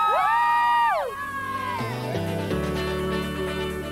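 A women's college bowling team from Nebraska celebrates at an intercollegiate championship with a loud, high-pitched group whoop that drops into excited shouting and cheering from the crowd.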